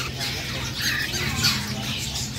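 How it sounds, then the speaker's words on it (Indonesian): Collector's caged birds squawking, several harsh raspy calls repeating over a constant background hum, moderately close. "Itu burung utama dia."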